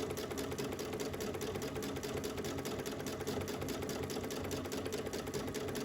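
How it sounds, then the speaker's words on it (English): A sewing machine quilts fabric for a Kindle sleeve, running at a steady, even pace with a continuous rapid mechanical stitching whir, close and uninterrupted. "Coverage meaning that I'm quilting a good amount of the fabric"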